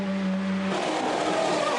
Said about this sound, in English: Just listen to the engine.